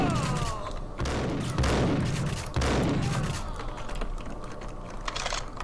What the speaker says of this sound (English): Very long range shotgun